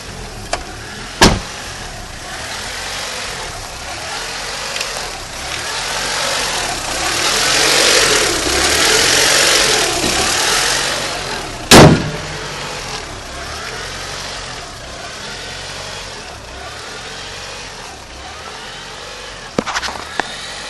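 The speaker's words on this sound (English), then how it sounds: "Out of all the idle surges that I've heard on a lot of these H22 swaps, this is just about the least worst I've heard" Honda Prelude from 1992 fitted with a swapped JDM H22A VTEC engine, idling with a mild surge: a steady mid-range engine drone that swells and eases, with a few sharp clicks, heard close with no talk.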